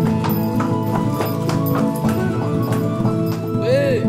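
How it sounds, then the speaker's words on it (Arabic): A knight's horse steps on stone stairs built by crusaders in old Akko, giving a run of sharp, close clip-clop hoof strikes in an uneven rhythm over a busy background. "حصان فارس"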